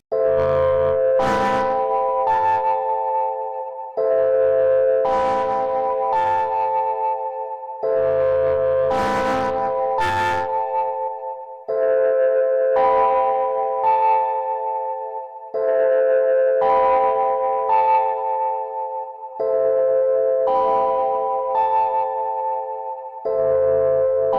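A distorted Fender Rhodes electric piano played through a saturation plugin repeats a chord pattern, the notes gritty and sustained, with a bell-like attack on each phrase, alone and fairly loud.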